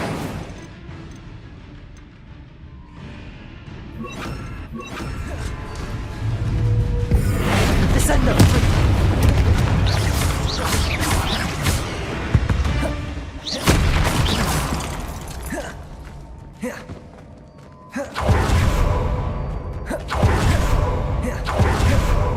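Bombarda and Incendio spells from Hogwarts Legacy on PS5 set off repeated loud booming blasts and fiery bursts, layered with combat clatter in a dense, sustained battle din.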